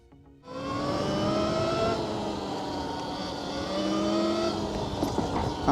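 REXX T01 72V electric dirt bike riding along, a steady close electric motor whine with rising and falling tonal harmonics and ground noise, no speech.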